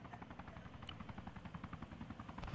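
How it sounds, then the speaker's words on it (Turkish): A helicopter's rotor thumps in a fast, steady rhythm in the video game ArmA 3, fairly quiet and distant, with no voices over it. "Bir helikopter daha geliyor."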